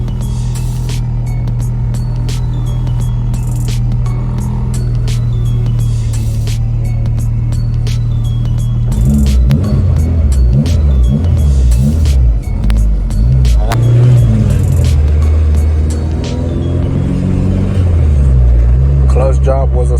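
A K24-swapped Acura RSX with a newly replaced clutch holds a loud, steady engine hum, then rises into varying revs as the car pulls away and drives, heard from inside at close range.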